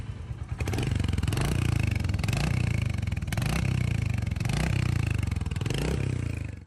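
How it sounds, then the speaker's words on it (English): A Royal Enfield Hunter 350 motorcycle with its stock exhaust runs up close, a loud continuous thumping single-cylinder note that rises and falls through several revs and gear changes. "Let's also have a quick listen to the stock exhaust."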